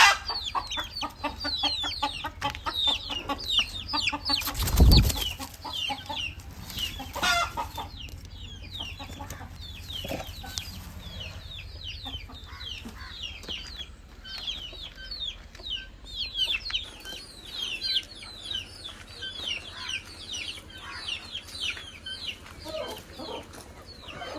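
Hens cluck and chatter continuously in a busy flock, with a loud close rustle or thump partway through and steady low background noise.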